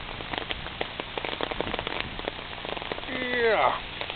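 Heavy monsoon-like downpour drumming steadily on surfaces close by, dense and continuous throughout, with a brief louder burst of voices near the end.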